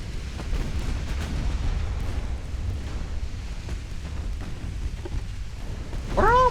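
Naval gunfire from a battleship engagement in the naval strategy game Ultimate Admiral: Dreadnoughts, a continuous low rumble of distant heavy guns with booming bursts, swelling louder near the end.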